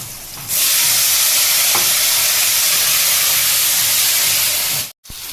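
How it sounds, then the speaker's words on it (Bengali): Pointed gourd and potato pieces hit hot oil tempered with dried red chilli and cumin, bursting into a loud, steady close sizzle that holds for several seconds before a brief break. "শুকনো লঙ্কার জিরে ফোড়ন দিয়ে দিলাম পটল আর আলু এগুলো দিয়ে দিব কষিয়ে নিব"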